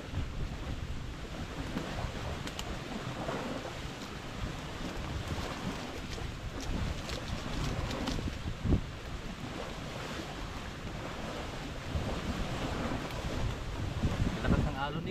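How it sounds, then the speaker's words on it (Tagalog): Rough waves on Taal Lake slosh and slap continuously, mixed with wind buffeting the microphone, up close and fairly loud, with faint voices now and then. "Lakas ng alon eh."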